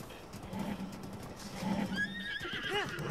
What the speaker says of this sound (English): Big horsey. Yay! Yeah, you love me, horsey.